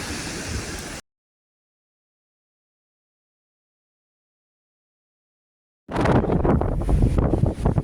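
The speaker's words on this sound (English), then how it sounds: "Die wind waai. It blows." Strong outdoor wind buffets the microphone on a hillside walk, a loud roaring gust at the start, then a gap, then heavy rushing wind again.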